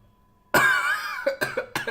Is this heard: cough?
yes